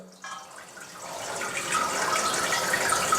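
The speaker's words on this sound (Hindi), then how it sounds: "अभी पानी भर रहा है।" Water runs into an old toilet cistern while it refills, a steady hissing rush that starts abruptly and grows a little fuller and louder as it goes on, heard close with no voices.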